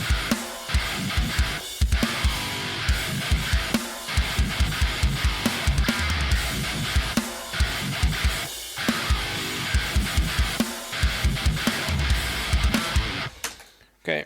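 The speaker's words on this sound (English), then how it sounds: "Okay, so I've got the drum groove now." Heavy drum groove in a metalcore style with punchy kicks and snare hits in a steady driving pattern, loud and dense with layered cymbals, played alone without any talking.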